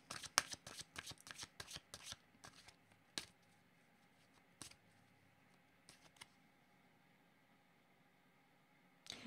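Playing cards shuffled for a card reading, a rapid run of crisp riffling bursts in the first few seconds, then a few isolated snaps and flicks against a quiet room, close and clear with no voices.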